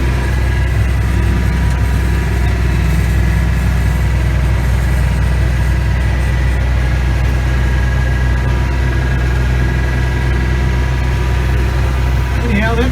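A Massey Ferguson 1105 tractor engine idles steadily and close by, a continuous low rumbling throb with no change in pace throughout.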